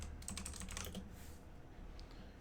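Rapid keystrokes on a computer keyboard while typing a search into the Windows start menu: a close, dense burst of clicks in the first second, then sparser, softer taps over a steady room hum.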